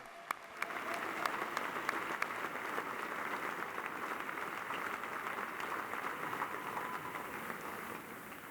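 Steady applause from a large audience at a university commencement ceremony, dense clapping that holds at an even level throughout with no pauses.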